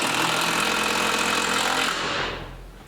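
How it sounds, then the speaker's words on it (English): A power driver whirs steadily at close range as it drives a lag screw into a pre-drilled wooden garage door bracket, then winds down and stops near the end. "just drive the screw in and it won't split the wood"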